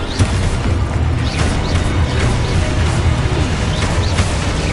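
Spell blasts in the video game Hogwarts Legacy, dense loud booming impacts and crashes layered over a continuous rumbling game soundscape, with no clear talk.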